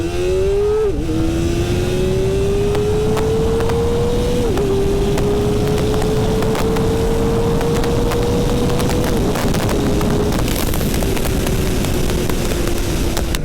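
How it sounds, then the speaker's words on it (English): Kawasaki Ninja ZX-4RR motorcycle pulling hard in first gear, its engine pitch rising steadily with brief dips at the shifts, loud and close over rushing wind. "Good news is we can do another little acceleration."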